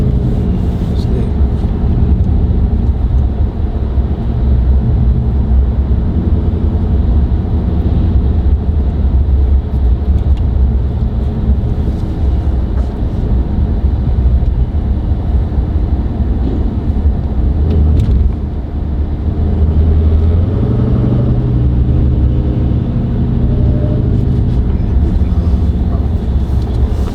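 Dodge Challenger SRT Hellcat Redeye engine droning steadily while driving, a loud continuous low rumble with road and wind noise filling the cabin and a brief dip and surge near the end; people talk over it.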